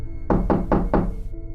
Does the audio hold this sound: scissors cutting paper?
no